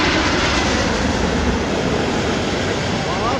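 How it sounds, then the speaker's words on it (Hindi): A British Airways Boeing 777-200 airliner arriving at Delhi Airport roars loudly and continuously nearby, a dense broadband jet rumble with a rising whine layered on top, steady throughout. "here comes another special arrival of our day, GYMMT, the Boeing 777-200 of British Airways on One World livery"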